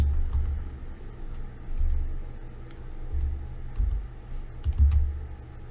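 Typing on a computer keyboard while coding in R, light irregular key clicks close by over a low background rumble, no talking.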